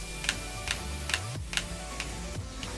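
Game controller buttons pressed in quick crouch-dash inputs for Kazuya, heard as soft, evenly spaced clicks about every half second against a low steady background hum, with no talking.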